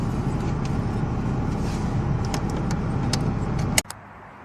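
A 90s JDM classic car's engine cranks and catches, then settles into a steady idle with keys jangling, before everything cuts off abruptly near the end.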